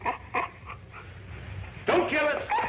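A dog whimpers and yips in short, close bursts, followed by a louder sharp bark-like outburst near the end, with no talking over it.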